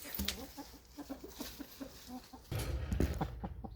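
Hens cluck in a short run of repeated, rhythmic calls near a backyard flock laying eggs among leaves beside apple trees, with a louder rustling burst near the end.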